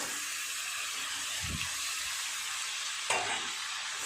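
Fried fish heads dropped into a pan of sizzling, well-cooked spice masala, a steady crackling sizzle with a couple of low thuds and a sharper clatter as pieces go in and get stirred.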